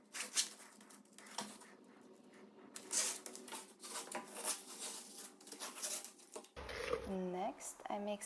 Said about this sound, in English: I taped the chases with mesh tape to prevent future cracking.